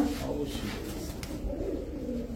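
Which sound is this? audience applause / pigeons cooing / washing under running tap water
pigeons cooing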